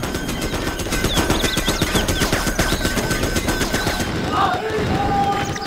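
Rapid, sustained minigun fire from a Command & Conquer Generals Zero Hour battle rattles on as a dense, unbroken stream of loud shots for several seconds, then thins out near the end.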